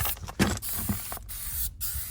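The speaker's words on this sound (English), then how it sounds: "But you're gonna take your spray glue" A can of spray glue hisses in several bursts, close and loud, with short pauses between sprays while patching a mobile home's rodent barrier and insulation.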